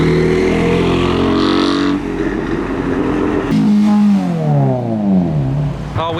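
Modified cars arriving at a car meet, engines revving loudly and close by, with rising and falling tones as they accelerate past one after another, and no talk over them.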